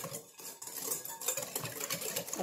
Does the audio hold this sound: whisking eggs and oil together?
yes